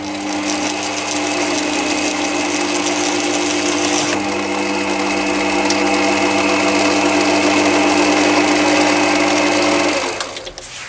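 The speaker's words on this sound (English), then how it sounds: "that's how you do machine tapping to a depth without actually breaking a tap" A lathe drives a tap into a hole with a tapping fixture and speed-reducing gearbox, a steady close mechanical whine and hum that rises slightly midway then winds down near the end.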